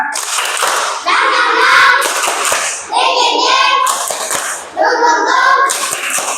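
Children in a classroom perform a rhythmic clapping cheer (tepuk semangat), bursts of hand claps alternating with chanted syllables in unison, loud and close.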